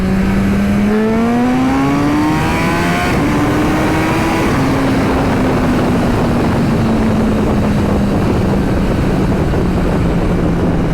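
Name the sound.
Suzuki Hayabusa motorcycle accelerating in second gear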